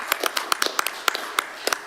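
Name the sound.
clapping for a speaker at a council meeting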